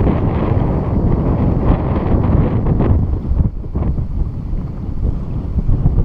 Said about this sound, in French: Et que ça souffle fort